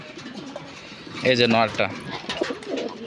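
A pair of Damascene pigeons sitting on eggs give a soft, throaty coo that swells midway through, close by and mixed with someone talking over it.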